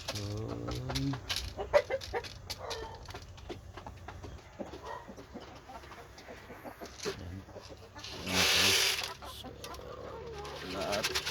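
Rhode Island Red breeder hens and a rooster cluck and coo in a pen, with scattered close calls over a steady flock murmur and a louder burst of squawking near the end.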